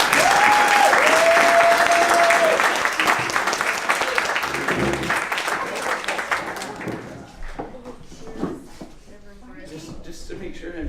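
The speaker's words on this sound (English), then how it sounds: "Everybody, a round of applause for Ali and Dan." Wedding guests applaud the couple in a loud, dense burst of clapping that slowly fades, with cheering voices and a whistle early on and people talking under it.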